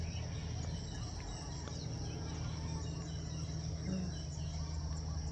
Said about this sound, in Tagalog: Maririnig mo yung mga ibon, mga huni ng ibon.